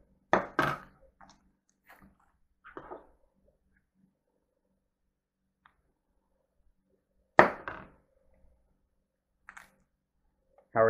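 Onion being chopped on a board for tilapia ceviche with sour orange and lime: a few sharp, isolated knife chops separated by long quiet gaps, close and fairly faint.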